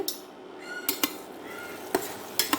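A spoon stirs and scrapes through ridge gourd in a pan, with a few sharp metallic clinks against the rim over a soft background hiss.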